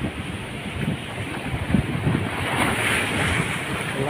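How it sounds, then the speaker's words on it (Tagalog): Ocean waves rolling onto the shore at Bindoy, Negros Oriental, with strong wind buffeting the microphone, a loud, steady rush of surf and gusts and no voices. "Alon."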